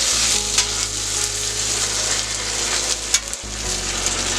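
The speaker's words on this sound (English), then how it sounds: "I'm going to put my sausage patties here." Sausage patties sizzle on a steel griddle with a steady, close frying hiss and crackle, with a low hum underneath and a brief scrape partway through.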